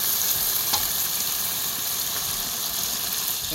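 Chicken and potatoes fry with turmeric and dried chili powder in a pan at an outdoor village picnic, giving a steady, close, loud sizzle with crackling hiss. A brief clink of stirring breaks through the sizzle, and no one speaks.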